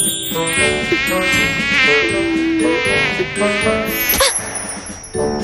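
A mosquito buzzes loudly and close, a high whining drone that wavers in pitch for about five seconds before dropping away near the end, with no speech.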